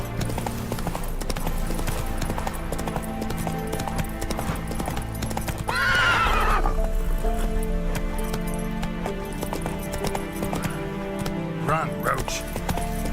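Roach, a horse in The Witcher 3, gallops with rhythmic hoofbeats, and a clear whinny breaks out midway over game music and ambient sound.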